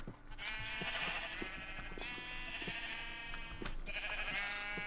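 Sheep in a video game bleating repeatedly, several loud, wavering calls overlapping one another at close range against a low background hum, with no talk.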